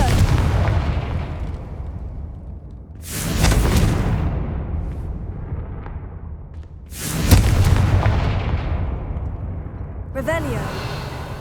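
Spell blasts in the video game Hogwarts Legacy go off as two loud booming bursts a few seconds apart, each trailing into a rumbling decay, followed by a brief shimmering magical effect near the end.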